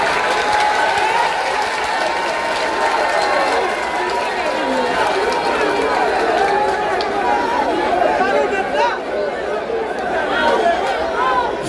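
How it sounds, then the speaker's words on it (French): A large crowd applauds continuously at a gathering, with steady clapping blended with chatter and hubbub, loud and sustained throughout. "Applaudissements."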